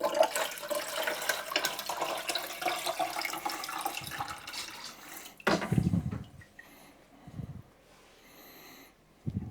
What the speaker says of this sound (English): Fill the reservoir to the descale line with water.